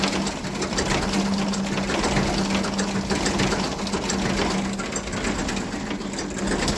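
A small Massey tractor engine idles very slowly on a cold day, a steady, rapid mechanical chatter with a constant low hum, continuous and fairly close throughout, with no talk.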